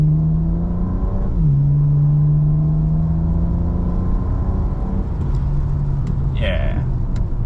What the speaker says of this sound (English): I'll just do one other little gentle acceleration. So we're gonna target about half throttle.